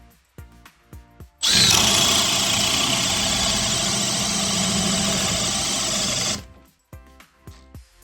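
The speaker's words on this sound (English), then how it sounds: "1 1/2 inch Jorgensen paddle bit. We are in speed 2. We are in drill mode. Pressure treat 4x4." A Makita XPH14 cordless hammer drill in drill mode at speed 2 drives a 1 1/2 inch Jorgensen paddle bit into a pressure-treated 4x4. It gives one sustained, loud, high-pitched whine lasting about five seconds, with light clicks and handling knocks before and after.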